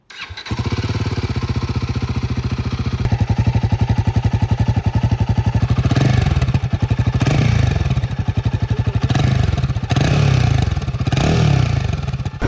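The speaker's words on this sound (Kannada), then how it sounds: "ಫಸ್ಟ್ ಗಾಡಿ ಎಕ್ಸಾಸ್ಟ್ ನೋಟ್." A Royal Enfield Himalayan 450 motorcycle idles with a steady, punchy exhaust thump, loud and close, then revs repeatedly in several short throttle blips over a rumbling idle, with no one talking.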